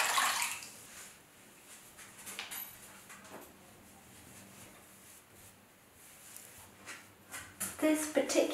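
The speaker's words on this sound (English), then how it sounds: "And then washing off with a clean, damp, warm cloth." A warm, damp cloth with muslin on one side and flannel on the other wipes a face clean during an at-home facial, giving soft wet swishes, rustles and drips that swell near the end, with a voice faintly present.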